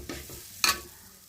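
Cassava pieces sautéed in ghee in a pot give a faint, quiet sizzle with two short scraping strokes of a spoon, no one talking.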